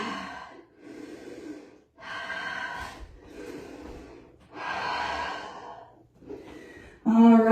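Heavy panting after a yoga lunge session, several loud, drawn-out breaths and gasps in separate bursts with short pauses between them, close to the microphone.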